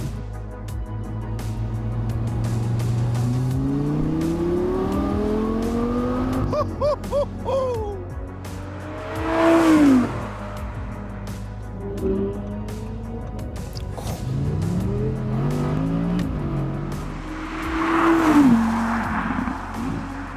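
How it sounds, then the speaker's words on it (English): An Audi R8 V10 GT RWD sports car engine revs and accelerates loudly, pitch climbing through several gear changes, with a second strong acceleration burst later on. "here we are, James, with the new R8 V10 GT RWD"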